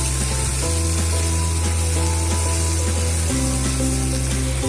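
Potato, onion and green chili fry in a hot pan for a breakfast chira polao, giving a steady loud sizzle with a low hum underneath and a brief shift midway, with no talking.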